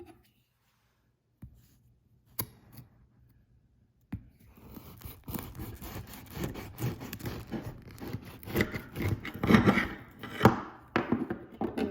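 A knife saws through a crusty loaf of homemade Irish soda bread, a few sharp crackles at first and then a dense run of close, crunchy scraping and crumbling strokes that grows louder toward the end.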